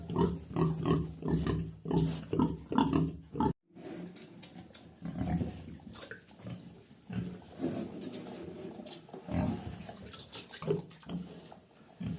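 Nearby pigs, including a sow, grunt and snort in rapid, overlapping bursts in a pigsty, pausing briefly before more steady, lower grunting resumes; no talking.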